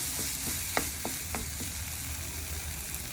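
Onion sambal frying in oil in a pan over a low flame, with a steady hiss of sizzling and a few scraping stirs of a spoon, close and fairly quiet.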